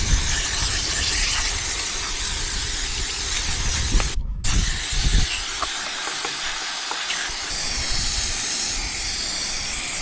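Degreaser sprayed onto gunk on machinery, a loud continuous pressurized hiss up close that cuts out for a moment and then resumes, steady throughout with no speech.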